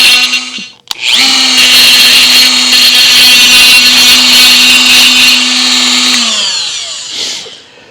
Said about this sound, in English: I'm using a carbide burr on a Dremel to clean up these terminal ends.